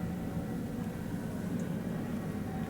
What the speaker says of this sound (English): there's military jets flying in and out all the freaking time